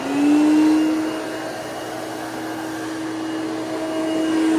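Hoover Celebrity QS vacuum cleaner running on high speed, a steady whining motor hum with a rising tone at start-up and slight swells in loudness, moderately loud and alone.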